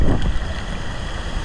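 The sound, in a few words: strong wind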